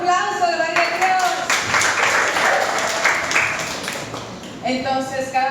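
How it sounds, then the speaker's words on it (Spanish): Congregation clapping at a church evangelism workshop, a dense round of applause rising between bursts of the leader's voice at the start and end, moderately loud. "Un aplauso, gloria a Dios"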